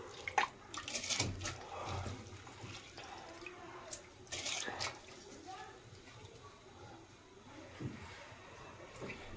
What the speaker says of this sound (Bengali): কমিয়ে দিয়ে এবার এতে একে একে চালগুলো দিয়ে দেবো। চালগুলো ছেঁকে দিয়ে দেবো।